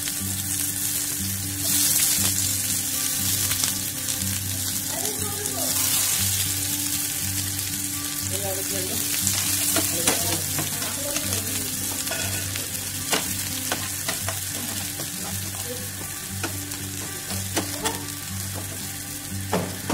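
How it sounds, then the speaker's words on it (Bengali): Onions fry in oil in a pan with bay leaf and dried red chili. A continuous close sizzle is joined by frequent clattering strokes of a stirring spoon, with no talking. "দেখুন, আমাদের মোটামুটি পেঁয়াজটা ভাজা হয়ে গেছে।"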